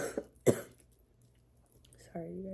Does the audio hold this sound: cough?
yes